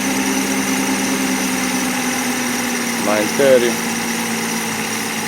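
A Mercedes 600SL V12 idling cold with its RPM drifting, a steady close engine hum with a brief rise and dip partway through, while someone speaks over it.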